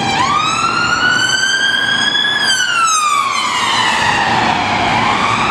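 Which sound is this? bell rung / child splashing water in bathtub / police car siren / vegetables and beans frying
police car siren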